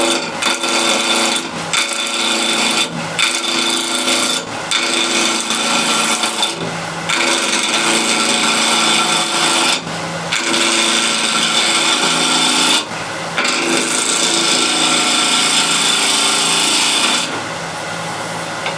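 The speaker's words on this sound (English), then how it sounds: "I'll use a spindle gouge" Wood turning on a lathe with a large 30 mm continental spindle gouge, a steady loud scraping, hissing cut that runs almost continuously, broken by several short pauses as the tool lifts off, with no talking.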